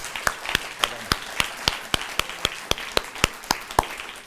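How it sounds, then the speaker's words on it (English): Slow, evenly spaced hand claps ring out one by one in a hall as an audience honors speech competition finalists, a single rhythmic clapper standing out over a faint wash of scattered applause. "One more round of applause for our wonderful finalists."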